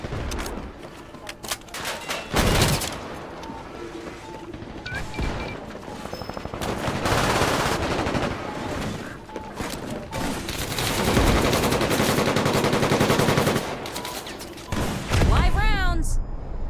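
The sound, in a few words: gunfire in a video game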